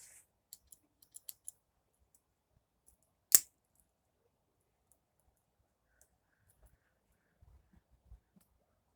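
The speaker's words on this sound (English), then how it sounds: "this is a pair of scissors right there" Small scissors on a Victorinox Super Tinker Swiss Army knife give a few light metallic clicks near the start and one sharp snap in the middle, then faint handling ticks in an otherwise quiet room.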